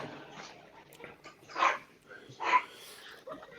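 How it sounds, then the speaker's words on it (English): A dog barks somewhere in the background, two louder yelps standing out amid faint whimpering and soft voices, the whole scene quiet and distant. "And their dog's barking."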